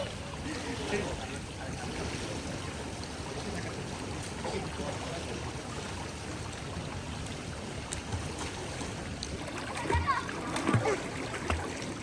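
Water splashing and sloshing in a resort swimming pool in Srimangal, Bangladesh, a steady close wash of splashes with louder bursts near the end, under distant voices including children.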